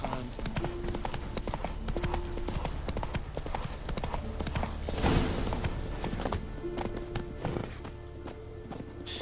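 Horse hooves clip-clop steadily in The Witcher 3 as a mount trots along, a continuous moderate rhythm with game ambience and someone talking over it.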